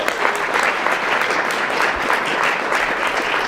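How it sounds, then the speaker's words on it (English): An audience at a meet-the-candidates night applauds a mayoral candidate, with steady, dense clapping filling the room throughout the short burst. "You can applaud as their names are called and in alphabetical order."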